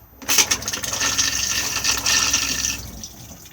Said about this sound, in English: and then push the blue button to flush.